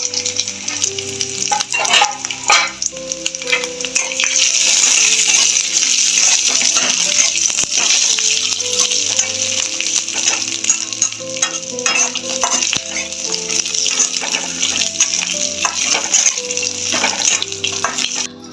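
Peanuts roasting in a hot pan for a masala, a loud continuous sizzle and rattle with frequent scraping stirs, close up and steady throughout with no talking.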